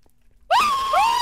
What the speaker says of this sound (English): did not know we were supposed to scream